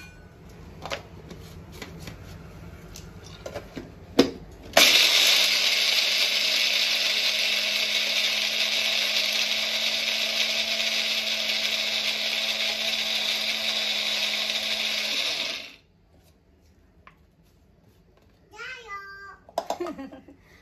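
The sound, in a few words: mixer grinding coconut and dal for chutney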